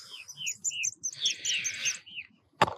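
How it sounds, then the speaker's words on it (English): Small birds chirp close by in quick repeated high tweets and a brief buzzy trill, over faint low background noise, ending with a short sharp knock. "Even the birds cheer me on."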